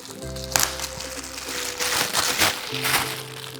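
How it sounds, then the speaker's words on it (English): Plastic crinkles and rustles as a bag is pulled open, with a sharp crackle near the start and continued crumpling handling close by. "it's wrapped in like a plastic bag. So I'm just going to open that first"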